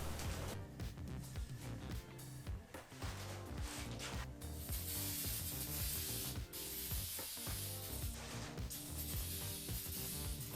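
Spray paint hisses onto the disc of a brake rotor for a 2015+ Subaru WRX in repeated bursts of aerosol, loud and close, with brief pauses and rubbing handling sounds between passes and no voices.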